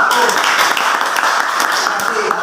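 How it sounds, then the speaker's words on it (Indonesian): A classroom audience applauds a student group after their presentation, with steady, fairly loud clapping from many hands and a voice speaking over it. "aplaus untuk kelompok"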